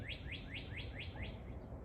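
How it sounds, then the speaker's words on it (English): A cardinal chirps outdoors in a quick series of about seven clear, rising whistled notes at an even pace, faint and somewhat distant against quiet background hiss. "Cardinal? That's what I think it is. Those red birds."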